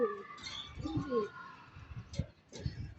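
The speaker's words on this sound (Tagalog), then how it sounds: "Yung ating mga kalapate, yun o." Pigeons in a loft give soft, low cooing calls with a few brief chirps, close by and somewhat faint, amid light background rustling.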